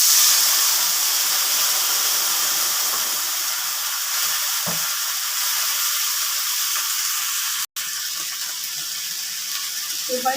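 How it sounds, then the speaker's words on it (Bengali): Water poured into a pot of fried spices such as cloves and cardamom for a Bengali moong dal with fish heads, giving a loud steady hiss and sizzle with a brief clatter midway. "মশলা ভাজা হয়ে গেছে, এবার জল দিয়ে দিলাম।"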